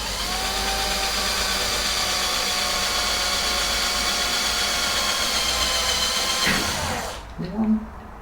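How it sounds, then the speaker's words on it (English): A power drill boring pilot holes for mounting a solar panel, with wood laid over the panel for protection; a sustained, loud whine runs for about seven seconds, then cuts off, followed by a few faint handling sounds. "We drill some pilot holes, making sure to protect the panel with some wood."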